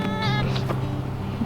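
Kitten George, a kitten in a warm greenhouse at dusk, gives a short, close meow against a faint background hum.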